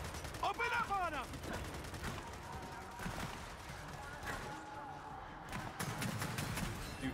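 Bursts of automatic gunfire crackle in a Gears of War 4 firefight, rapid rattling shots mixed with mechanical clatter and game effects, with players talking over the action.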